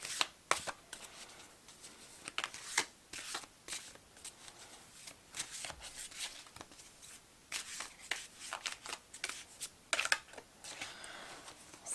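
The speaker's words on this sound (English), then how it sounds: "my shuffling is a bit slow" Soft, papery riffling and flicking of tarot cards being shuffled by hand, quiet and close, with irregular bursts and short pauses.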